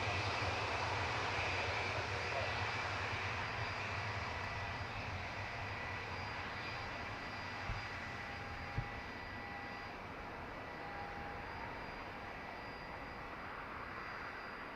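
A TAP airliner from Lisbon at Dublin Airport, a steady distant roar of jet engines holding for the whole stretch, fairly faint and broad with no voices.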